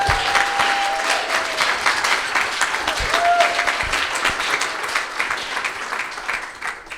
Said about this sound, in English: Can we please give it a round of applause?